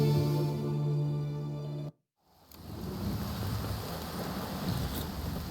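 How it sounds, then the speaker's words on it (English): Heavy rain pours steadily in The Witcher 3, a broad hiss that follows a brief silence after an earlier tonal passage, with faint low rumbles suggesting distant thunder, and no speech. "It's raining."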